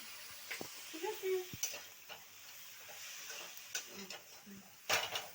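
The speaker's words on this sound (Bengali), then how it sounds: "দিয়ে ভালো করে এটা নেড়ে চেড়ে নিতে হবে" Spices with ginger paste and chilli powder being stirred as they fry in a wok, with soft sizzling under a utensil's scraping strokes and a few sharp metallic clinks.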